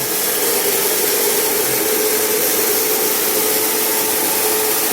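A homemade aerodynamic winnowing fan with an 11-blade Gazelle impeller, used for cleaning and calibrating wheat seed, runs as a loud, steady, unbroken airy roar with a faint hum and no talk.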